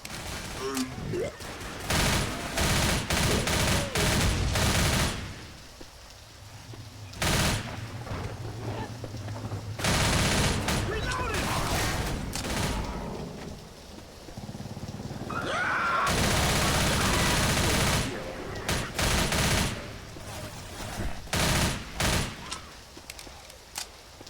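Gunfire fills a round of the video game Left 4 Dead, with loud bursts of rapid automatic shooting separated by quieter gaps, all heavy and continuous through the scene.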